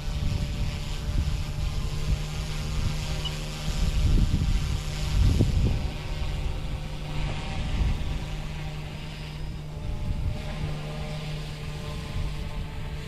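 Flite Wing 200 RC helicopter flying low over a front yard in strong wind, a steady motor whine with rotor hum under heavy gusting wind buffeting the microphone, surging louder midway.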